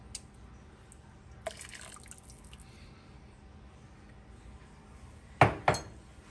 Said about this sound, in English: Y'all know I like to rinse my vessels.